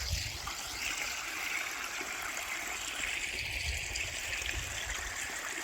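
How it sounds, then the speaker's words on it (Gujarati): Water flowing in a steady, continuous rush and gurgle, moderately close and fairly quiet, with no clear pauses or other sounds over it. "પાણી આપણું વહેતું થઈ ગયું"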